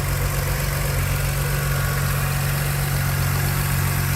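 A six-cylinder car engine idles smoothly and steadily, a close, constant low hum and rumble with no revving or speech.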